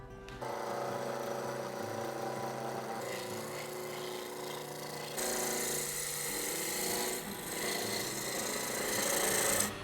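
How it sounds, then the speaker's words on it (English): A wooden spindle turning on a lathe, a continuous rasping scrape as the tool cuts, with the tone shifting partway through and growing brighter and louder toward the end. "you heard in the middle there where the sound changed, where I knew it was perfectly round because there was no chatter left"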